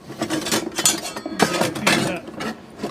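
Metal tongs clink and scrape against a pan while steaks with cowboy butter are handled, a few sharp irregular taps close by amid soft kitchen clatter.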